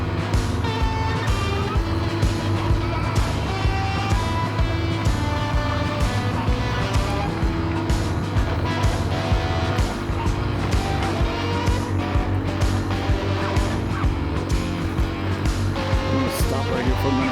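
Motorbike loaded with heavy luggage riding a mountain road in Vietnam, its engine droning steadily and loudly throughout with constant wind and road noise, no talking.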